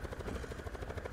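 A helicopter in a video game chops steadily with fast, even rotor beats, loud and close, without any voices.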